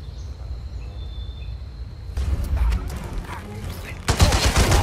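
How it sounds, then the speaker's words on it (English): Gunfire in the stealth action game Hitman 3, a burst of shots arriving partway through over a quiet ambient bed with insect-like hum, followed by a louder second volley near the end. "That was a gunshot."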